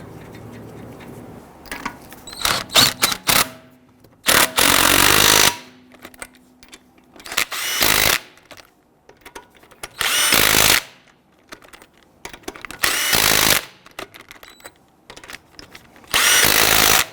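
Power tool snugging down lug nuts on a 2011-2019 Ford Explorer wheel, several loud bursts of whirring and rattling a second or so long, separated by quieter handling and pauses, close by.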